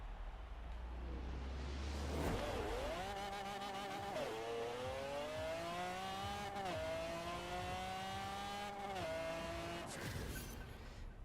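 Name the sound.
1900HP drag Mustang accelerating in video game Forza Horizon 4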